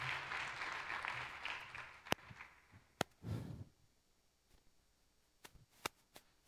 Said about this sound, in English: please give another round of applause for Shane.